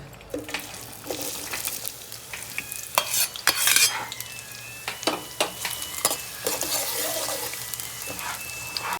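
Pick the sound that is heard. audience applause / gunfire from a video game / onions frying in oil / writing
onions frying in oil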